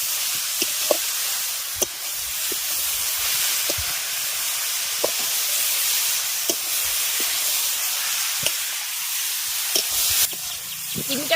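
Carrot halwa with sugar and ghee cooking in a covered pan, a continuous soft hiss and steamy sizzle with occasional light clicks and taps, steady and close, with no talking.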